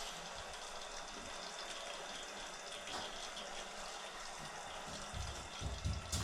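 Water runs steadily into a geothermal pond loop tank as it is filled, a continuous close rushing and splashing that holds even throughout.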